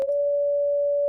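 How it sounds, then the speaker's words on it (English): A steady 500 Hz sine test tone held at constant level, pure and unbroken for about a second, with no other sound. "This is a sine wave at this amplitude"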